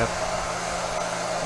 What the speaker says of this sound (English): I'm gonna heat this part up.